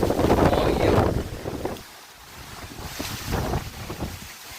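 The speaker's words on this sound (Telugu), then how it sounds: "గాలి అలాగుందన్నమాట తీవ్రంగా ఉంది గాలి" Strong wind roars during a rainstorm, a loud gusting rush at first that eases into a softer, rumbling blow outdoors.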